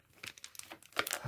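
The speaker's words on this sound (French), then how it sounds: "Premier booster qu'on va ouvrir." A Pokémon card booster pack is torn open, giving a quick series of crisp crinkling and tearing rustles of foil wrapper, building to a louder burst near the end, with no talking.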